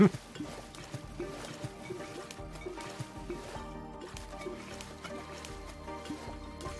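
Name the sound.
water splashing in a waterfall in a video game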